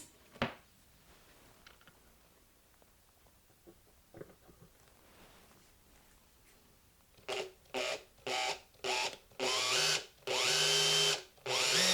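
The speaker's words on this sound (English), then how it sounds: "As I started to drill this first hole here, the drill bit started to wander." A drill bores pinholes through a guitar top for a new bridge, starting with a few faint ticks and taps, then running in loud, close bursts that lengthen into a sustained whine.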